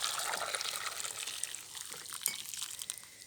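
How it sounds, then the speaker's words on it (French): Very hot, near-boiling water is poured over gherkins and coarse salt, a soft steady trickle and splash that fades slightly, faint and close with no voices. "Et puis je mets de l'eau chaude."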